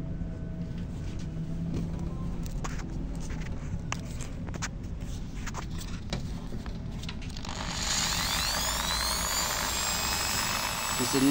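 A Skil 10mm electric drill with an empty chuck starts up about two-thirds of the way in, adding a steady, close motor whine over a quieter background that continues to the end.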